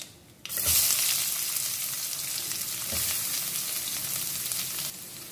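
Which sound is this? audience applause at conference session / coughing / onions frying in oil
onions frying in oil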